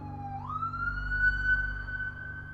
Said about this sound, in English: Siren going outside.